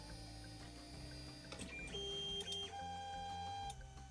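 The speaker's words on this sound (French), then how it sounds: "l'imprimante s'est mis auto-home, elle s'est mis à 0 automatiquement" A Tevo Tornado 3D printer auto-homes, its stepper motors whining in steady tones that step through several pitches, with short pauses and clicks as each axis moves to zero, close and moderately loud.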